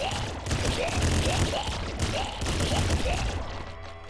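Rapid bursts of video game gunfire from Nuclear Throne on PC rattle on continuously, loud and dense, with repeated shots layered over a low rumble.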